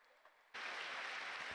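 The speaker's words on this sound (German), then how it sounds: "einen riesen Respekt und einen Applaus für den Kämpfer und natürlich für den Trainer" Applause for a kickboxer and his trainer at a Night4Fight 2023 fight event bursts in suddenly after a quiet moment, a dense, loud crowd clapping that holds steady to the end.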